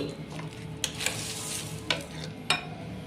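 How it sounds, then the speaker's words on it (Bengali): A spoon stirs food in a hot frying pan as a breakfast tiffin dish cooks, with soft scraping strokes over a faint sizzle and a few sharper clinks of utensil against metal, close and clear. "তো আমি এরকম করে ভালো করে নেড়ে নিচ্ছি"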